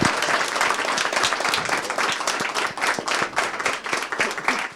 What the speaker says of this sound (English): I'd just like to ask you to a round of applause for our wonderful panelists